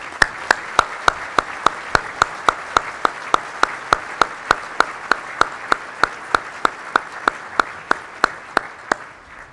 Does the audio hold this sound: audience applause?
yes